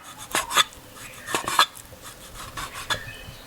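A knife slicing meat thinly against the grain on a cutting board, a series of quick slicing taps and scrapes at an uneven pace, close up.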